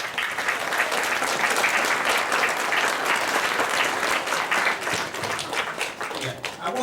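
Audience applause for award shortlistees at a youth writing awards ceremony, a steady, dense wash of many hands clapping that fills the hall for about seven seconds without letting up.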